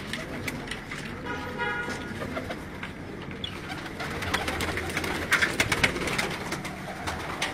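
High-flying pigeons kept by a fancier, soft cooing and brief calls near and far over faint outdoor ambience, with occasional wing flutters and distant traffic.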